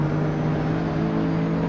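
Steady engine drone of a racing car in Assetto Corsa 1, a sustained tonal hum holding at a constant pitch throughout, moderately loud with no talk over it.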